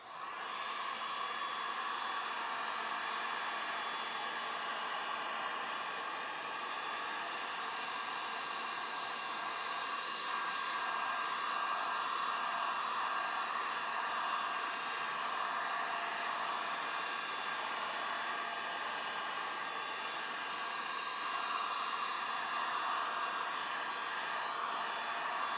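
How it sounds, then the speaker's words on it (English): A heat gun blows on resin during a Dutch pour, a steady, even whirring rush of air with a faint whine that holds for the whole stretch, moderately quiet and alone without voices. "Yep, heat gun. Let's plug that in."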